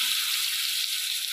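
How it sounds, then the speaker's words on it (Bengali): Potatoes frying in hot oil for a vegetarian soybean curry, a steady hissing sizzle that holds evenly throughout at close range, with no voices. "তেলটা গরম হয়ে গেছে, আলুগুলো ভেজে নেব।"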